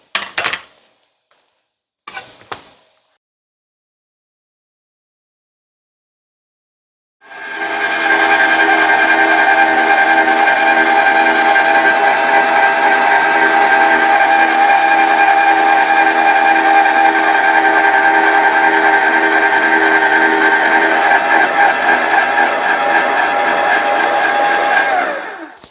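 Parmedu electric grater cutting zucchini, a loud steady motor whine with a grinding edge that starts abruptly after a few short knocks and silence, then runs on unbroken.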